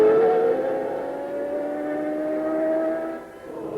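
Jean Alesi's Ferrari Formula 1 race car runs in wet, foul conditions in 1992, its engine giving a sustained high, tonal whine that holds steady at full power and dips briefly near the end.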